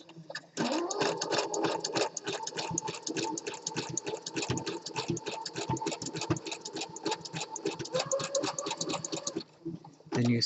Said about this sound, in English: Then you sew around, catching the raw edge of the fabric and the top edge of the elastic